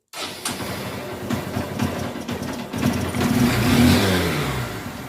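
A Honda Shine motorcycle engine with a morning starting problem catches abruptly, then revs up as the throttle is opened, its note climbing and swelling loud and close before easing slightly.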